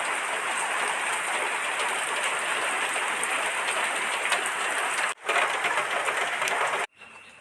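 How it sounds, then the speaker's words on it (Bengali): Heavy rain pours steadily in a dense, loud hiss, cut by two brief drops before resuming strongly. "আজকে এক সপ্তাহ লাগাতে অনেক বৃষ্টি হইতেছে, প্রচুর।"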